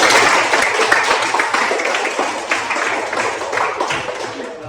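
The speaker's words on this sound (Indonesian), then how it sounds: "Mari tepuk tangan untuk kita semua" A group of people applauding together at a teaching practice session, steady dense clapping that fills the whole stretch at fairly loud level without pause.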